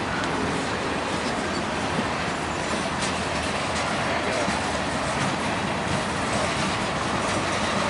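Union Pacific and BNSF freight trains passing each other just south of Tower 55: a loud, continuous roar of rolling wheels and rail noise, close by and unbroken throughout.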